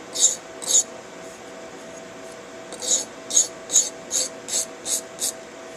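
A blade drawn across a Norton Econo sharpening stone gives short, bright rasping strokes, two at first, then a steady run of about seven evenly spaced passes after a pause, close and fairly loud.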